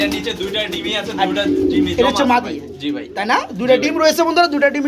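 Pigeons coo repeatedly while circling at a breeder's loft where eggs are being laid, the coos overlapping with close conversation.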